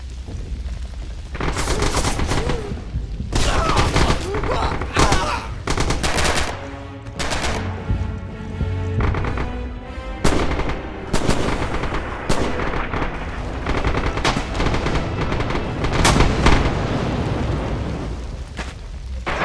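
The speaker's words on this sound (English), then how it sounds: "Sniper fire!" Gunfire in the WWII shooter game Red Orchestra 2, with sharp rifle shots and rattling machine-gun bursts over heavy booms. The firing is loud, dense and continuous, with no voices.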